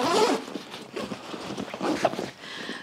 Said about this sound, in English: So it has zippers which opens from behind, and this is where you can actually securely open your bag and load all your gear.